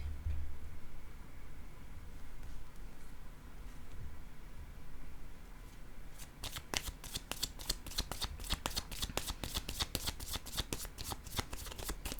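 Tarot cards shuffled for a reading, starting after a quiet stretch of faint hiss and then turning into a quick, even riffle of crisp card flicks close to the microphone, with no talking.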